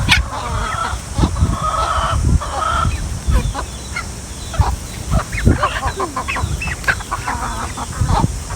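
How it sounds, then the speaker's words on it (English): Chickens clucking and squawking on a farm during an outdoor animal excursion, a busy run of close, irregular clucks with other birds calling, over steady outdoor background noise. "Look at the chicken."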